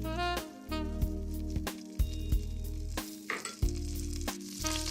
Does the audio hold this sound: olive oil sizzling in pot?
yes